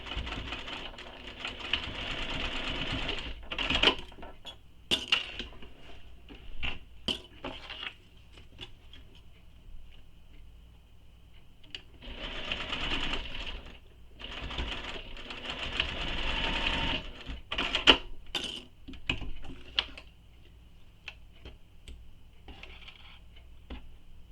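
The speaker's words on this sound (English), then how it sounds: "we're going to sew this using the seam allowance given in the pattern" A sewing machine stitches a bowler bag seam at the pattern's seam allowance, running in several bursts of steady mechanical whirring separated by short pauses and handling clicks.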